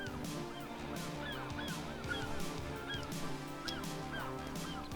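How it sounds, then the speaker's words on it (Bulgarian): Glitched birds in the video game The Forest honk continuously, a dense overlapping chorus of goose-like calls that stays loud and steady throughout. "птици гличнати във въздуха"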